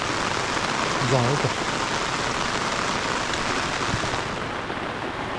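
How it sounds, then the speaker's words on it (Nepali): Rain falls steadily on a village rice field where workers plant under plastic sheets, a dense, close patter that carries through the clip while a voice speaks briefly near the start. "पानी पर्यो"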